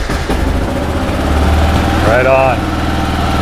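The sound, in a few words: Kawasaki KLR 650 motorcycle engine starting and idling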